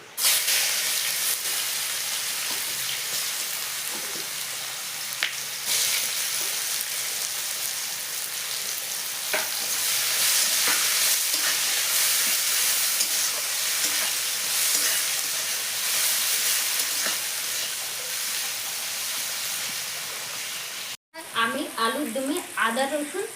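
Chopped onion sizzles in hot oil with cinnamon, black pepper, cloves and dried red chilies for matar pulao, a loud, steady frying hiss that runs unbroken, then cuts off briefly before a voice speaks at the end.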